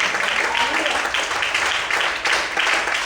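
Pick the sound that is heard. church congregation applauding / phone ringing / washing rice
church congregation applauding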